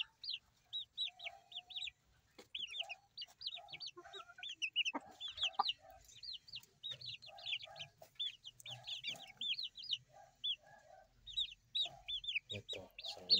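A young hen clucks repeatedly among chicks in a batch of chickens, soft low clucks mixed with frequent high peeping chirps, close and fairly quiet.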